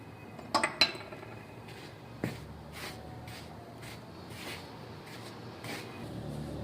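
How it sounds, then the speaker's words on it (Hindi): Dry semolina, oil and cardamom powder being mixed in a bowl, giving a few light clinks and scrapes of a spoon early on, then soft faint stirring against a quiet background. "सूजी, तेल, ये सारी चीज़ों को मिक्स कर लेंगे।"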